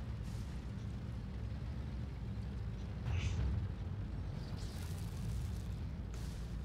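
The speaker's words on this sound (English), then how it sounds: "Artillery finishing him off, and now it's a fair game again" Artillery shell explosion finishing off a tank in the World of Tanks video game: a muffled low boom swells at about three seconds over steady rumbling battle noise, with a smaller burst later, not loud.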